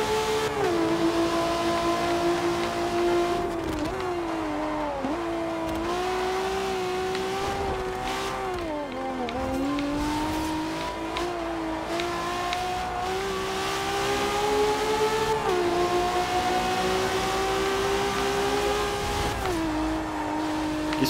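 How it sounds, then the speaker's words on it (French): A LaFerrari engine revving hard in Forza Horizon 2, a loud, sustained high-pitched racing wail that climbs steadily through the gears with brief dips at each shift, alone with no talk. "Vraiment, chez Ferrari, ils ont le don pour faire des moteurs de... qui font des bruits de F1"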